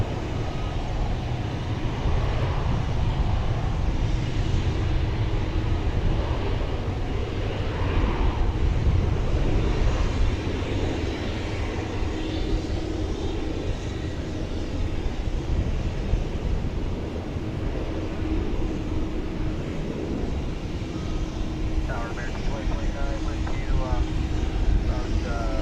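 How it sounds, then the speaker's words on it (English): A UPS MD-11 cargo jet takes off from DFW Airport on a hazy morning, its steady broad roar and low rumble continuous throughout, with wind noise on the microphone and a faint voice at times. "MD-11, and it's just now taken off from the east side on this hazy Saturday morning on Runway DFW"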